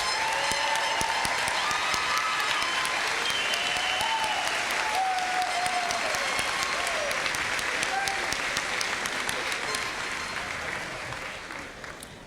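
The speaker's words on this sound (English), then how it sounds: "One more round of applause for you." Sustained applause from a large crowd at a high school graduation, dense and steady, with a few voices mixed in, fading slightly toward the end.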